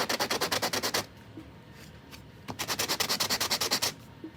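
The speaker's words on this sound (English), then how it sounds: "I could take a piece of sandpaper or a sanding block" A 3D printed sci-fi terrain piece is sanded by hand with sandpaper or a sanding block in two bursts of quick, rhythmic back-and-forth strokes, close and crisp, separated by a short pause.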